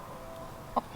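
Backyard chickens giving two short, sharp clucks close by near the end of an otherwise quiet moment with faint background hiss.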